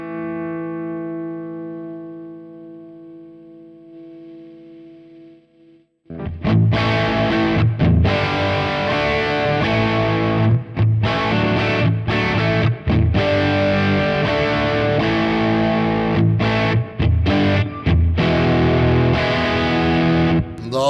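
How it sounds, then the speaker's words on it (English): Electric guitar played through a Marshall JMP50 amp model with jumped channels on a Sonicake Matribox, a few sustained clean-ish chords ringing out, then loud, driven gain riffing with choppy palm-muted stops, no voices. "This is based on the Marshall JMP50 with the jump connection"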